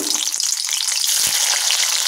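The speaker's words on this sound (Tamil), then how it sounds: "இதையும் ஆயிலில் கொஞ்சம் சூடு பண்ணி ஃப்ரை பண்ணி எடுத்துக்கலாம்." Capsicum strips fry in hot oil in a pan, giving a loud, dense, steady sizzle with a couple of brief low pops and no talking.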